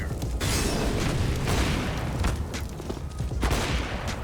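Video game gunfire from many players at once, dense overlapping bursts and booming shots in a loud continuous barrage with no voices over it.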